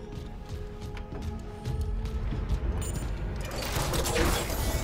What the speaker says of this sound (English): The ADS cannons.